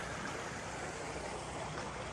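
Flood water streaming steadily past a village, a constant broadband rushing and gurgling wash heard faintly from a distance with no voices.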